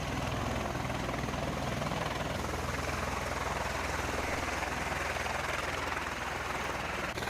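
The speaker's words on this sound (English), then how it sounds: "The Osprey, pretty much a helicopter or a plane." A V-22 Osprey tiltrotor flies during US Marine combat training with Philippine Marines, its rotors giving a continuous dense, roaring wash of noise at a steady level and fairly faint overall.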